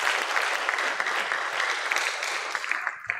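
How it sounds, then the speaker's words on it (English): Steady applause from an audience at a farm company's anniversary celebration, dense clapping sustained and fairly loud throughout with no pauses. "I think we deserve a round of applause for that."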